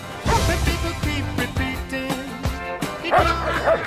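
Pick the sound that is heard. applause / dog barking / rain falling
dog barking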